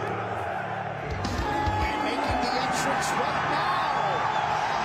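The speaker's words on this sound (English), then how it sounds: "Listen to the crowd." A packed UFC arena crowd cheering for Donald Trump's entrance, a dense, sustained roar of many voices with scattered shouts, heard at a distance under a commentator speaking.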